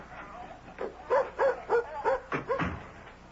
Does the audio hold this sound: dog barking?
yes